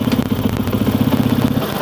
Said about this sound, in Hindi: तो देखिए जी, बाइक हमारी स्टार्ट हो गई है।